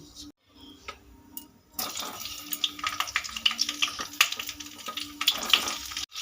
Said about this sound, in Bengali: তেলের মধ্যে সব শিমগুলো দিয়ে দিয়েছি এবার ভালো করে একটু নেড়ে চেড়ে নেব